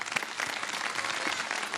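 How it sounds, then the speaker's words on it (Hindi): A studio audience claps for children on a Ramadan iftar television show, a brief, steady patter of applause at moderate volume. "तालियां"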